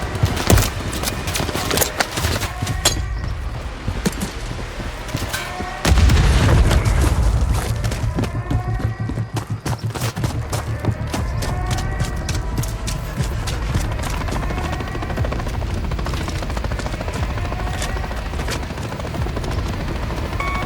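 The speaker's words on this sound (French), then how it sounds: "Dernier hélico détruit." A helicopter is shot down in the Call of Duty Modern Warfare 3 video game, with loud explosions and a deep boom partway through over steady rotor roar and gunfire clatter.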